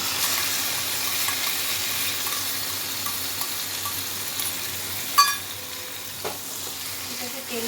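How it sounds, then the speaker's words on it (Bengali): Garlic and chilli sizzling in hot oil in a pan as mashed bean paste is added, a steady close crackle with a couple of sharp clinks of a utensil against the pan. "রসুন আর লঙ্কাটা ভাজা হয়ে গেছে, এবার আমি এর মধ্যে এই শিম বাটাটা দিয়ে দেবো।"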